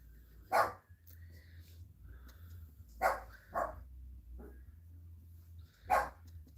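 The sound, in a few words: dog barking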